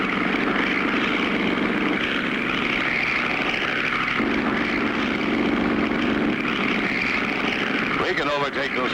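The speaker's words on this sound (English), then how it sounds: "that bobtail flying machine is catching up with us" A cartoon bobtail flying machine's engine drones steadily and loudly, a continuous propeller-like roar chasing a pontoon boat, with a brief warbling swoop near the end.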